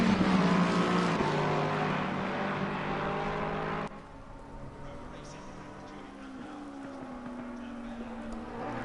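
A Ferrari 488 race car pulls out of the pits at a wet Imola in a racing video game, its engine a steady droning whine that drops suddenly partway through, then carries on at a lower level, with a faint rising tone.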